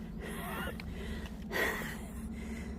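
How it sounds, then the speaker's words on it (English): A hiker gasps and breathes heavily while climbing uphill on the Pine Mountain Scenic Trail, a few close, loud exhales over a low steady background. "I'm breathing hard."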